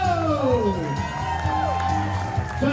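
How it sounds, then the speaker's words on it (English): A theater audience cheers and whoops for the cast of Soulbound at a Carnival Sunrise ship show, a crowd roar running throughout beneath a loud announcer's voice and music. "give it up for the playlist cast of Soulbound"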